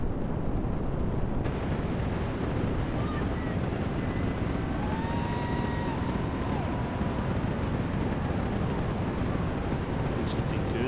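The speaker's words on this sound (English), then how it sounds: "All 27 engines powerfully lifting GOES-U on its trajectory and ascent into space" Falcon Heavy rocket engines at launch in Kerbal Space Program give a dense, steady roar that fills the whole span with no breaks, loud and continuous.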